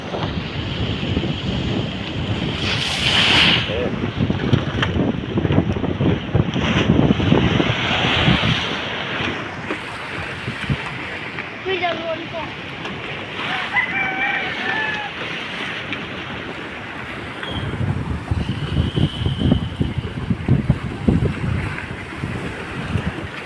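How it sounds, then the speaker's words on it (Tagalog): Typhoon waves crash against a pier on the Baywalk at General Luna, Quezon, amid strong gusting wind, loud rushing surf surges rising and falling under heavy wind noise, with someone speaking intermittently. "Grabe, napakalaki ng alon"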